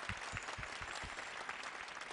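Applause from a concert audience at a live music night, continuous and fairly full, with some low thumps scattered through the clapping.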